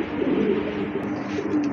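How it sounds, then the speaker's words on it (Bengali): Pigeons, grizzle-type birds kept for sale, cooing steadily and close by, a continuous low rolling coo with a dense murmur of other birds behind it. "আরেক জোড়া কবুতর দেখতে পাচ্ছেন"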